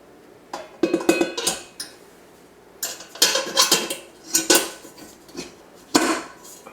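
An 8-quart mixer bowl is fitted and locked into place with a series of sharp metallic clanks and rattles in irregular clusters, close and fairly quiet, with no talk.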